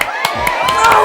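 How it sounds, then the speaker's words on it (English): A crowd cheering and whooping at a quiz game on a show, loud and close, with excited voices overlapping in a short burst. "Everyone clap!"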